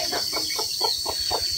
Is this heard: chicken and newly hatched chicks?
yes